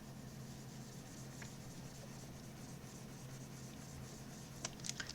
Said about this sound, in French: ma ligne de perspective ici sur le côté, bah, je peux déjà la gommer